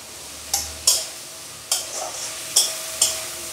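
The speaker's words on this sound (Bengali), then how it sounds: "এটা তেলের মধ্যে দিয়ে খুব ভালো করে আমি কষে নেব।" Spice paste of tomato, coriander seed, cumin, melon seeds and ginger frying in oil in a pan, with about five distinct stirring scrapes and sizzles over a low hiss, close and without talk.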